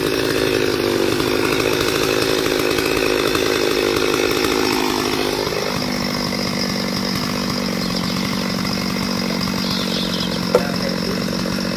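A loud chainsaw runs continuously while cutting into an oil palm tree, its engine pitch dropping midway as the blade bogs down in the wood.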